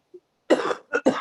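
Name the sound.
cough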